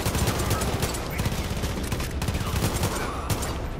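Dense, rapid gunfire rattles without pause through a Far Cry Arcade firefight, overlapping shots and bursts packed close together at a steady loud level.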